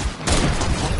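A hand cannon fires in Fortnite, a loud, abrupt gunshot blast with a dense boom that rings out and fades over the remaining moment amid other game noise.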